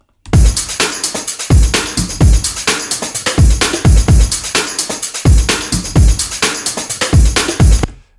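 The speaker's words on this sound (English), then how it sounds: "We've got this breakbeat." A sampled drum breakbeat loops steadily: punchy kicks and sharp snares carry a busy hi-hat and cymbal wash, loud and up close in a repeating syncopated groove with no voices.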